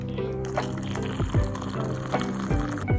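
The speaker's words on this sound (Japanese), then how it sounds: "お湯を注いで混ぜ混ぜしていただきます。" Hot water poured into a cup of roasted barley flour with sugar, a close, gentle trickling and filling with a few soft clinks, moderately quiet and without speech.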